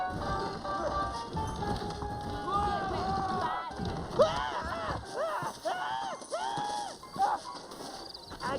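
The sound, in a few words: horses galloping in Red Dead video game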